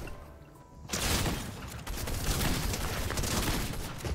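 Rapid bursts of gunfire in the Fortnite video game, loud and close, start after a quiet opening second and then keep going as a dense, continuous volley.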